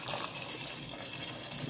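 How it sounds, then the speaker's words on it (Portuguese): Water poured from a tap or jug into a cooking pot of okra, a steady close rush of running liquid filling the pot, continuous and fairly soft throughout with no talking. "Volta ele aqui pra panela e põe mais um pouco de água aqui dentro."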